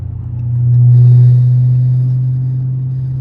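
500+ hp Dodge Scat Pack driving through a snowstorm, a loud low engine drone that swells briefly then settles into a steady cruising rumble, with no talking.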